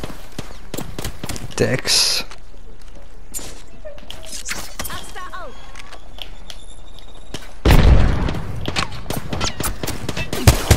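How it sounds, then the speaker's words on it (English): Scattered gunshots in Apex Legends, sharp close cracks at irregular intervals with a heavier burst partway through, while a player talks between the shots. "I'm getting shot at."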